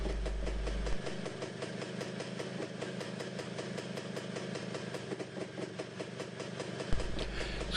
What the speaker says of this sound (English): I also left the engine running in the background